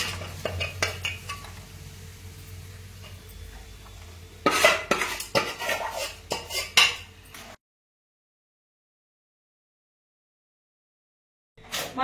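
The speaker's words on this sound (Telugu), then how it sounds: "కట్ చేసి పెట్టుకున్న పీసెస్ వేయాలండి." Cut pieces tipped into a cooking pan, with clattering metal and utensil clinks, scraping stirs and a faint sizzle, a burst of louder knocks midway, then sudden silence before another clatter at the end.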